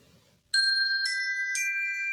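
A bright electronic ding-dong chime rings three clear tones in rising succession after a moment of quiet, each note sustaining and overlapping the last, closing a guided breathing exercise.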